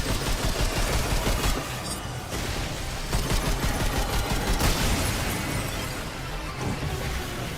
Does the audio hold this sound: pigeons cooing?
no